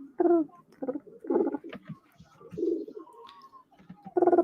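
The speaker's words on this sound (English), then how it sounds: "Pájaros are the birds." Pigeons or doves cooing, several low throaty coo phrases in irregular bursts with short pauses between them, fairly close and heard alone.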